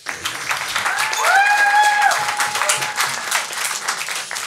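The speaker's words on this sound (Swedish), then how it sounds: "En liten applåd." Brief applause from a small live podcast audience, rising to a fuller swell in the middle and then thinning out, with a few tonal whistles or squeaks sounding over the clapping.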